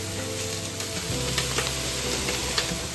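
Soya chunks sizzle in hot coconut oil for a Kerala-style dry fry, a dense constant crackle with soft scraping as they are stirred in the pan.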